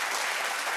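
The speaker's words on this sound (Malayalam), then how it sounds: "കയ്യടിച്ചോ" Brief burst of dense audience clapping at a comedy stage show, a continuous even patter of many hands heard close and fairly loud for under a second.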